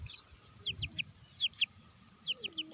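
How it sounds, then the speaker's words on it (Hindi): Cross-breed Aseel chicks cheep and cluck close by in a farmyard, giving clusters of short, high peeps in quick bursts over a low background rumble. "ये होचंती क्रॉस ब्रीड आसिल चिक्स"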